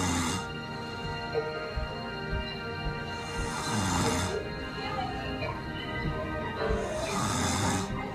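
A hefty man snoring in his sleep, with long, rough breaths repeating every few seconds, each swelling into a hiss that fills the room and then fades before the next one.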